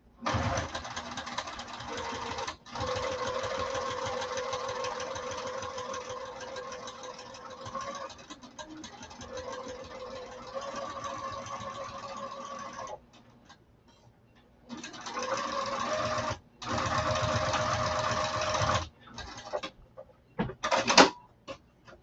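Sewing machine stitching lining and pocket pieces together at a steady, even hum over several long runs, broken by brief pauses and a short stretch of near silence, close with no talk.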